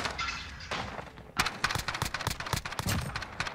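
Rapid gunfire in a Wild West video game, a dense volley of loud close shots in quick irregular bursts following a brief lead-in of other game sound.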